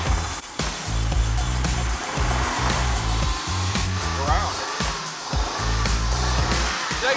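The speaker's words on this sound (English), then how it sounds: "Go ahead, rev it up." A junkyard car engine with a vacuum leak and coolant escaping is revved hard, giving a loud, close, rough roar with a hissing, whooshing edge that surges and dips repeatedly.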